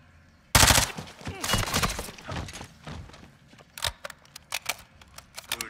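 Gunfire in Modern Warfare 2: a loud opening burst, then a scatter of sharp shots and short rattling volleys over a rough, busy din, tapering to separate cracks toward the end.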